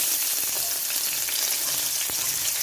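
A medium onion, finely chopped, fries in hot oil in a pan for dhaba-style paneer bhurji, giving a steady, close, even sizzle with no voices.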